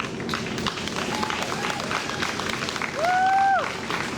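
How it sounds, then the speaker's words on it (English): Steady crowd applause at an evening Wear Orange community event, sustained and fairly loud throughout, with a brief whistle-like tone rising above it partway through. "Please give them a round of applause as they come"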